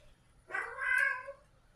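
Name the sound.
cat meowing for attention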